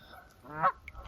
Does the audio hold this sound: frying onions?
no